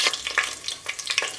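Curry leaves and whole spices such as cinnamon and cloves fry in hot oil or ghee for mushroom biryani, giving short bursts of bright crackling sizzle with brief lulls, close by and fairly quiet.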